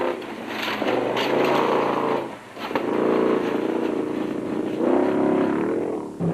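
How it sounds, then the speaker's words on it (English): A Nissan rally car engine revs repeatedly during the dusty, hot 2006 Dealer 400 in the Western Cape, rising and falling in pitch with a buzzing, fairly loud drone and a brief dip midway. "Matthews and Moore were third in class, and their Century Properties Bat was sounding like it had just started its dusty and hot ordeal in the Western Cape"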